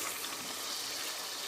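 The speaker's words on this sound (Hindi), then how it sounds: "अब इसमें एंड में पानी डालेंगे।" Water is poured into mutton korma that has been browning in a pot, making a steady hissing sizzle and bubbling rush at even, moderate loudness with no voices.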